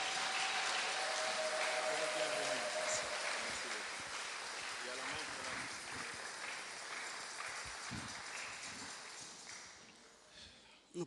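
A church congregation applauds and cheers in a dense, sustained wash of clapping that slowly fades, with voices mixed in as a pastor comes forward.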